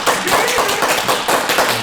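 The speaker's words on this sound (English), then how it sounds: "Applause for Super Mario RPG." An audience at a comic convention panel ranking SNES games claps loudly and close by, a thick, pulsing patter of many hands that carries through without pause.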